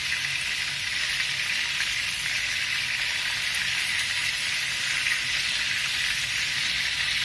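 Lucknowi kebabs frying in a pan as they are turned to cook the other side, giving a loud, steady sizzle that stays constant and close throughout, with no talking.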